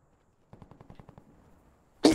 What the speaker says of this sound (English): If I'm putting 4 bullets in you, you should be flinching